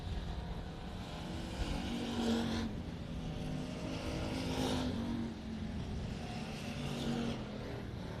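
Sprint cars roar past on the front straightaway of a dirt oval at Texana Raceway Park, a continuous loud engine drone with surging pass-bys around the two-, five- and seven-second marks, no voices.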